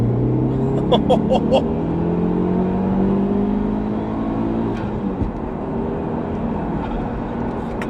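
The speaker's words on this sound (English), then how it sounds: "I'm gonna floor it now. There's turbo." A tuned car with a B235R turbo engine is floored at full throttle: a close engine note climbs steadily in pitch under load, then levels into a sustained roar with road noise.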